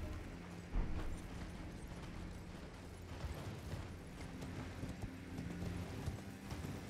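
A horse's hooves clip-clop steadily in the Elden Ring video game, a fairly faint, repeating trot heard alone, with one heavier thud near the start.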